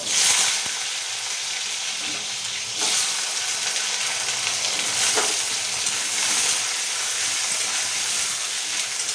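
Potatoes frying in burnt oil in a small gas-stove pan, a continuous close sizzle and hiss with brief louder bursts of crackle, no talking.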